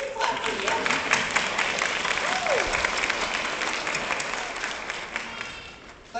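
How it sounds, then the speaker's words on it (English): An audience at a school graduation ceremony applauds for the parents, sustained clapping that holds steady before fading slightly at the end, with a faint voice briefly heard beneath. "Yeah, we can clap for you."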